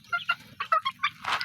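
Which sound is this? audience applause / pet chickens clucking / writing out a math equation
pet chickens clucking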